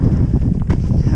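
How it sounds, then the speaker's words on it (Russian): Steady wind blowing across the microphone on Mount Roraima, a low rumbling rush that holds constant throughout, with no voices. "потому что поднялся ветер"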